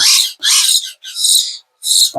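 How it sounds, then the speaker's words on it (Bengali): A golden myna chick gives four loud, close, harsh shrieking calls in quick succession, each about a third of a second long, with short gaps between them. "প্রত্যেকটা ময়না পাখি দেখার মতন দেখেন"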